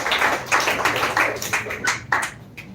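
An audience at a spoken English speech event claps for a speaker named Pooja, giving a few seconds of scattered, uneven applause in separate bursts that thin out toward the end.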